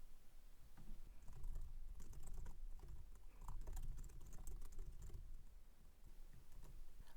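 Steady typing on a computer keyboard, a quick run of soft clicking keystrokes heard alone and fairly faint throughout.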